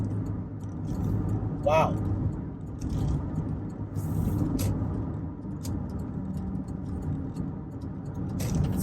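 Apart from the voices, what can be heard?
2011 Toyota Highlander driving at speed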